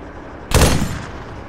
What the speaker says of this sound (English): The commander's got the machine gun.